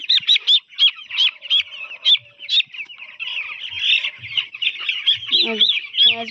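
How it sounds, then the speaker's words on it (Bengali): Chickens cluck and squawk in a quick, busy run of repeated calls, fairly close, during vaccination, with a few low knocks and handling noises underneath. "মুরগি"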